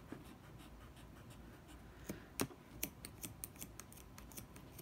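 Dull scissors snipping through paracord wrapped on a knife handle, a series of sharp, close clicks and crunches in quick succession over a quiet background.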